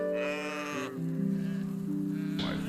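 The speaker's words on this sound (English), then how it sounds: "My sheep listen to my voice." Sheep bleat in long, wavering cries, one after another, fairly close and clear, with no talking.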